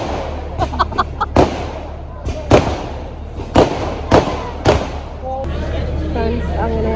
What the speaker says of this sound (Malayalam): വെടിക്കെട്ട് കാണുവാണോ